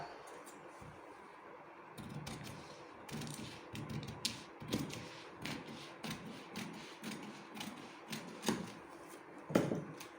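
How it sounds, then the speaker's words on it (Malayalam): Fabric is cut along a marked curve for a tulip sleeve, giving quiet, repeated crisp snips and creaks in an irregular rhythm, close up with no talking. "ഇനി നമുക്കിത് കട്ട് ചെയ്തെടുക്കാം"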